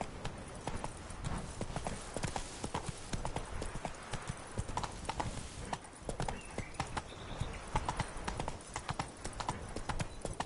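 Hooves of Roach, Geralt's horse in The Witcher 3, clip-clop in a fast, steady galloping rhythm throughout, loud and close over a rushing background.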